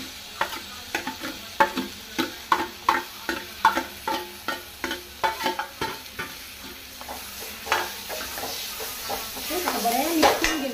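Mashed eggplant stirred in a hot pan for baingan bharta, a spoon scraping in a steady run of sharp, evenly spaced strokes over a soft sizzle, growing busier toward the end.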